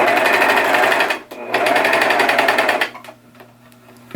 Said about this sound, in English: And we're just going to stitch across.